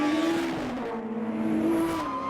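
Race cars at a Jyllandsringen circuit race coming round to complete a lap, loud close engine whine with shifting pitch and a brief tire-squeal hiss as they pass.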